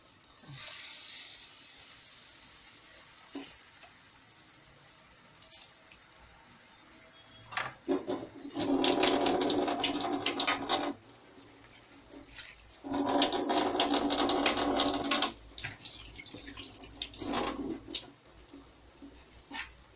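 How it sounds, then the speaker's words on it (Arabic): Tomato sauce is poured into a pot of Egyptian stuffed vegetables cooked with chicken, making two splashing, gurgling pours of a few seconds each, with quieter clinks and kitchen noise between them. "هننزل بالصلصه"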